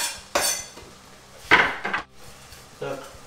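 Tomatoes go into a pan for Spanish paella, with a few sharp metallic clinks and scrapes of utensils against cookware, spaced irregularly and close up.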